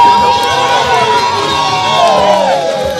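A large crowd cheers, shouts and whoops loudly and continuously at an outdoor Zambian independence celebration with dancing, children's shouts mixed into a dense wash of voices.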